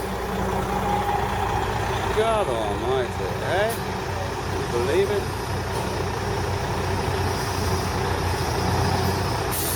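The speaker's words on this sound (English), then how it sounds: "The buses with a big exhaust." City buses with big exhausts idling on a New York street, a loud steady diesel rumble with traffic noise around it, close, with someone talking over it.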